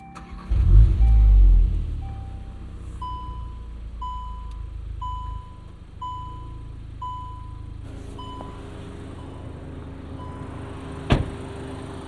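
A 2024 Volkswagen Golf R engine cranks and roars to life at night, then settles into a low idle while a dashboard chime pings in a steady rhythm.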